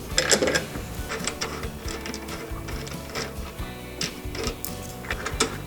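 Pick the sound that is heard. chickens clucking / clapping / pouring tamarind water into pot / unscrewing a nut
unscrewing a nut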